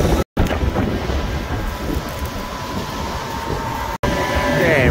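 Air-seeder fans on a planter hum in a loud, steady roar heard outdoors on the first day of seeding, mixed with wind buffeting the microphone.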